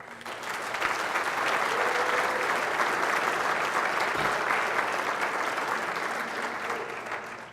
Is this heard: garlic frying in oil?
no